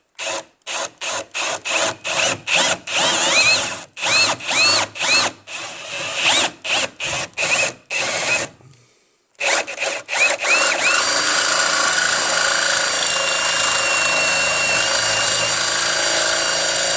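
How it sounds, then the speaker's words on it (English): Power drill boring 3/8 inch holes into the airbox of a 2005 BMW X5 e53 4.8is during a cold air intake install, with many short close bursts, a brief pause, then one long continuous run. "after we drill our 3/8 inch holes there"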